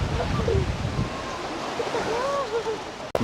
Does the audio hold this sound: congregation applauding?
no